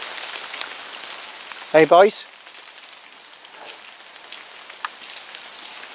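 Steady rain patters on surfaces around an abandoned tilery in woods, with a brief spoken greeting near the start and a few sharper drips standing out.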